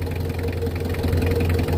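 Mitsubishi L300 van engine idling after a starter drive repair, a steady low rumbling idle with a slight knocking pulse, close and continuous, no speech.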